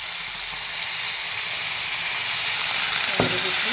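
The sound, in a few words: water added to melting jaggery in a pan, hissing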